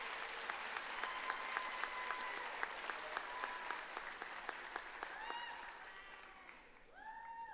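Applause from the audience at a Harlingen Collegiate High commencement for student council officers, steady clapping from a large crowd that thins toward the end, with a few faint voices and tones.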